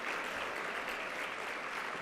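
A conference plenary session audience applauds the standing judges, a dense, steady wash of many hands clapping at even volume throughout, with no voices on top.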